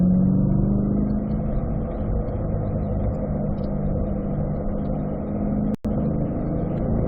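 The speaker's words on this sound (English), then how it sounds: "Get up to third gear. Let's build up the speed progressively." A race car on a track with the engine droning steadily close by, a continuous loud mid-range roar with little rise or fall, broken by a single brief dropout near the end.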